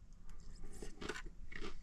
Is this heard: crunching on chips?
yes